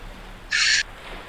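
A person imitates a bird call with one short, bright, whistle-like cry lasting about a third of a second over quiet background hiss.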